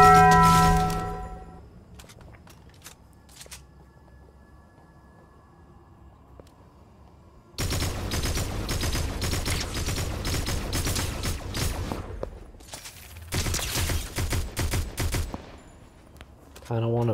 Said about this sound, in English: So many gun sounds.